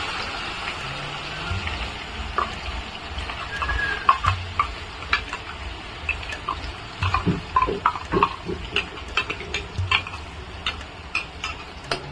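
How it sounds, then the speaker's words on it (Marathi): Wet ground masala paste roasting in hot oil, a low steady sizzle under repeated clinks and scrapes of a spoon stirring against the pan, close by with no voices. "चांगल्यानं भाजून घ्यायचा मसाला तेलामध्ये"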